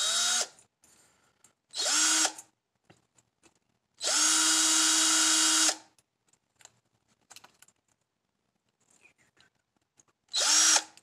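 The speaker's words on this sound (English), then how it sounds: "I will use the drill to take stuff apart" A power drill removing screws from a Dynamite .12 model engine whirs in three separate bursts, each a couple of seconds long with a rising and falling whine, separated by quiet pauses and faint clicks.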